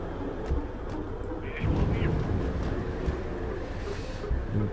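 Explosions in the video game Atom Zombie Smasher: a dense rumble of booming blasts with a couple of louder swells, heard over a continuous low background.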